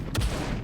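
A dropship in the SCUM video game fires a short burst of gunfire, with two sharp reports under half a second apart and a rumbling tail between them.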